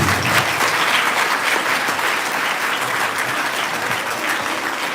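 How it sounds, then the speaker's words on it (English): A school audience at Rouxville Primary School gives pupils a round of applause, dense and steady clapping filling the hall at a loud, even level throughout, gently easing toward the end. "Now we can give them all a round of applause."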